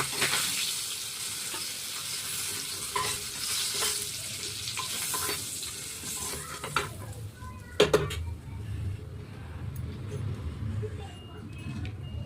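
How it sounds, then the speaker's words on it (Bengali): Fish frying in a pan gives a steady sizzle broken by stirring scrapes and a few sharp clinks of utensil against metal, loud and close with no voices. "মাছটা ভাজা হচ্ছে, মাছটা আমার ভাজা হয়ে গেছে"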